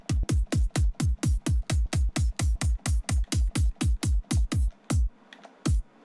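Synthesized kick drum samples fire in a fast, even run of around twenty punchy thumps, each a sharp click dropping into a deep sub boom. The run then breaks off, and two last kicks land separately after a short gap.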